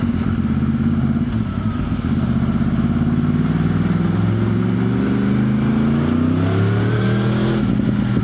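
A Yamaha R1 motorcycle engine braking on the road, loud close engine note with revs winding down in smooth falling sweeps, then a brief blip near the end, with no talk.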